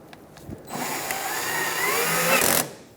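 A power drill briefly whirs for about two seconds as it drives a screw into the grille of a 2014-2019 Kia Soul, a close, loud burst starting and stopping abruptly after a few small clicks.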